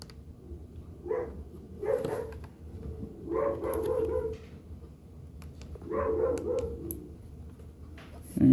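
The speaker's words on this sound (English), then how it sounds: "of course my dog decides to start barking." A dog barks and yips indoors in several bursts of repeated, fairly close barks, with short pauses between them and a faint whimpering quality.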